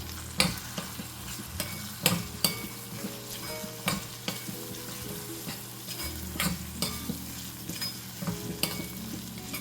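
Chilli powder is stirred into a sizzling Agri Koli style dried fish (sukat) masala, with rhythmic spoon scrapes and clinks against the pan over a steady frying hiss.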